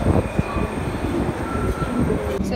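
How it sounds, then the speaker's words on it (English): A London Underground train rumbles steadily through the station, with a loud continuous low roar, a faint high whine and metallic rail noise that persist for the whole stretch. "I'm about to get on the train."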